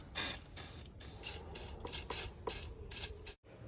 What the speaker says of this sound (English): I think it's a good idea to spray some WD-40 on the screws so they can unscrew without any trouble.